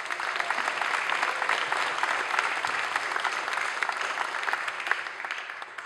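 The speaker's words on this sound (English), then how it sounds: "Round of applause for the trumpets" A dense, steady round of applause from a concert audience at Durham Town Hall, honoring the trumpet section of a big band, sustained and fairly close with no talking over it.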